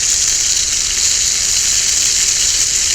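Hamburger steak sizzles loudly in a cast iron pan over a burner, a steady close hiss and crackle that holds unbroken throughout.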